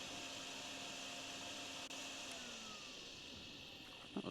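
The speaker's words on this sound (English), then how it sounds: "Maybe I can vacuum this on the way out and get this area cleared." Steady drone of a vacuum cleaner running in the video game Drain Sim, a constant whirring hum that holds evenly close up with a brief dip, alone without talk.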